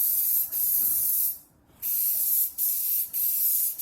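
Spray paint hisses through a stencil onto a Robotron arcade cabinet in several steady bursts, with short pauses and one longer break between passes, close and fairly loud.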